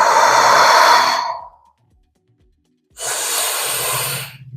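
Deep yoga breathing: a long, airy exhale trails off into silence, followed by a steady inhale, close and clearly heard with no talking.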